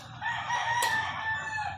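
A rooster crows once, loud and close, a short harmonic call with a few faint clucks from nearby farm fowl.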